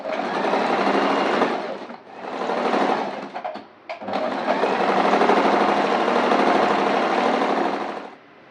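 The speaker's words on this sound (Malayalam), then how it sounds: "ഇനി എന്നിട്ട് മറ്റേ വശത്തോട്ട് നമുക്ക് സ്റ്റിച്ച് ചെയ്യാം. മറ്റേ ഭാഗത്തോട്ട് നമ്മൾ സ്റ്റിച്ച് ചെയ്യണം." Sewing machine stitching nighty fabric for a mix-and-match kurti, a loud steady whirring run with a brief pause and a few stuttering stitches before it runs continuously again, then stops.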